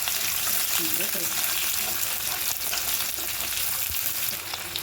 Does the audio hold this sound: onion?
yes